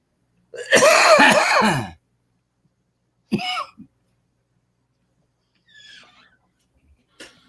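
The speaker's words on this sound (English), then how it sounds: "Oh, you get me coughing" A person coughs in a harsh burst, then a shorter cough follows after a pause, with a faint breathy sound and small click trailing off.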